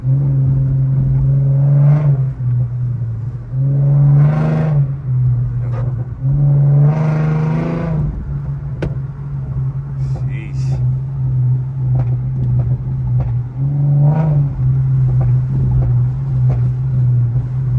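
An Infiniti Q50 engine with new intakes revs repeatedly in rising surges with a few sharp exhaust pops and crackles, heard from inside the car with a manual-style drive while people talk.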